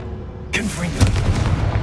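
In Hogwarts Legacy, a Confringo blasting spell goes off with a sudden explosive burst and a deep, rumbling boom that lingers briefly.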